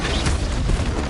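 A Flipendo spell cast in Hogwarts Legacy lands as a short, loud, booming burst with a rough rumbling texture, lasting about a second with no voices.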